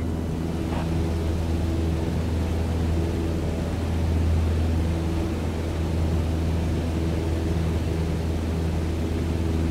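Jet in Microsoft Flight Simulator 2020 at takeoff on runway 33 right, a steady low engine drone and airy hiss holding at a constant level throughout, with no voices.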